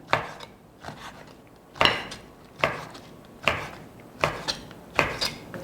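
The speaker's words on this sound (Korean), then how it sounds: "반을 가르고 또 이것도 잘잘하게 좀 썰어 주겠습니다" Squid is cut into small pieces with a knife on a cutting board, giving sharp, close chops in an uneven steady rhythm, about seven distinct strikes with soft rubbing between them, no talk.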